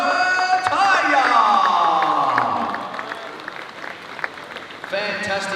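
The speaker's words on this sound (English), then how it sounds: "Let's have a big round of applause" Audience applause and cheering welcoming two boxers, Opetaia and Squeo, at a world championship press conference on the Gold Coast; a loud burst of clapping with whoops and crowd noise over talk, fading to a softer murmur before rising again.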